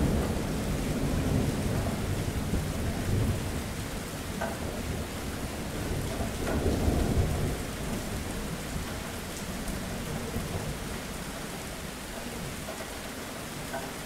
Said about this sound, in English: allowing the storm to pass by listening to all the sounds of the rain